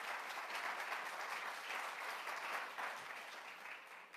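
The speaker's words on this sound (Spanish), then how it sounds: "Un aplauso al Señor en lo que es el verdadero evangelio." Church congregation applauding during a Spanish-language gospel service, a dense, steady wash of many hands clapping together, faint and distant, tapering slightly near the end.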